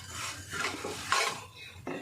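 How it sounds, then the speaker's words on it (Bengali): Oats frying in ghee in a pan while being stirred, with steady close scraping and rustling strokes and a few sharper utensil clinks, no talking. "দেখুন, ভাজা হচ্ছে ওটস।"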